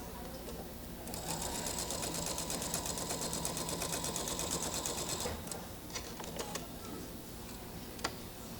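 A sewing machine stitches a quilt seam, its rapid even clatter running for about four seconds at moderate volume, then stopping and leaving a few light clicks and handling sounds.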